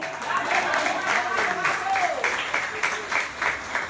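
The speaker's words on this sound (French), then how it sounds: "Put your hands together." An audience in a church service claps in a scattered, moderately loud patter, with a voice speaking over the applause through most of it.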